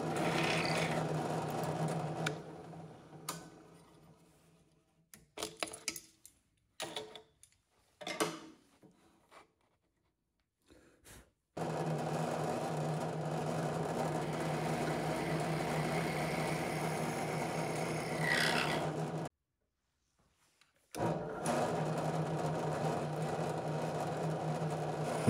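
A drill bores into wood with a Forstner bit during a large format camera build. A steady mid-pitched whir runs in long passes, broken by short bursts and silences partway through, then resumes for an extended, even stretch.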